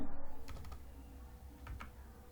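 Computer keyboard typing while entering a spreadsheet formula, a few quick clusters of soft key clicks at close range over a low steady background hum, no talking.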